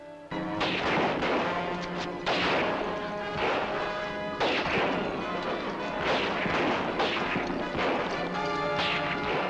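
A volley of rifle fire in an old adventure serial: repeated loud, cracking shots with harsh, echoing crashes, coming in several bursts close together across the stretch.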